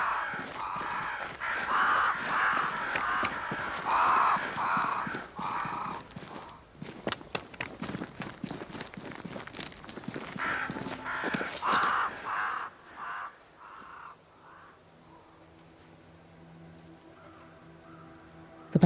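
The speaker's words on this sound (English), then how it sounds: "Crows. They flock to that great tree up there." Crows caw repeatedly in a rhythmic series in the game Banishers: Ghosts of New Eden, fairly close and clear, before fading into quieter ambient sounds near the end.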